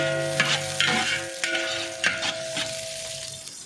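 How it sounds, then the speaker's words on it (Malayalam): Finely chopped onions sautéing in ghee for a vegetable biryani, a soft steady sizzle broken by several sharp scraping stirs of a spoon against the pan, close and moderately loud with no talking. "ഒരു 2 സവാള ചെറുതായിട്ട് അരിഞ്ഞത് അതിൻ്റെ അകത്തോട്ട് ഇട്ട് കൊടുക്കാം. അതൊന്ന് വഴറ്റിയെടുക്കാനാണ്."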